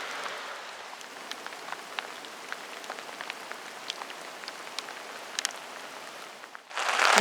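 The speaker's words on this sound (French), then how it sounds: "Il y a encore une grosse averse. On peut l'entendre. Il pleut pas mal." Heavy rain shower drums on a tarp pitched in the mountains at Prapic, a dense steady patter with scattered sharper drops standing out, until a louder rush of wind and rain swells at the very end.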